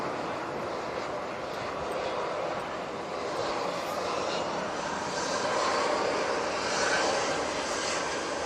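A large airliner lands, its engines giving a sustained broad roar that builds slightly toward the end, steady and fairly close without any voices.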